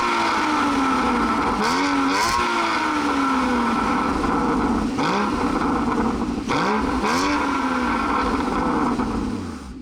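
A Porsche Boxster Spyder with its sport exhaust switched on revs loudly up close, several sharp throttle blips rising and falling over a steady engine drone throughout.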